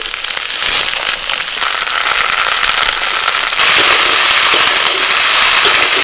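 Chopped vegetables, potato, cauliflower, spring onion, peas and carrot, fry loudly in a hot pan with a dense, continuous crackling sizzle that grows a bit stronger partway through, close up and without speech.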